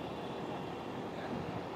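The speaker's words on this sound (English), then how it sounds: "And this sound which you are listening is a railway engine sound, right?" Steady, even rumble of an electric railway engine near a station, continuous and fairly close for the whole stretch, with no talk over it.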